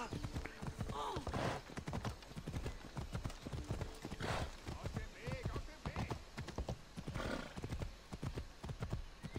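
A horse gallops in Assassin's Creed Odyssey, its hooves clopping in fast steady rhythm with a few whinnies and snorts, loud and close throughout the ride.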